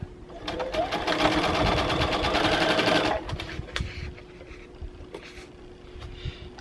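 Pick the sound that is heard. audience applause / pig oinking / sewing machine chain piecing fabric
sewing machine chain piecing fabric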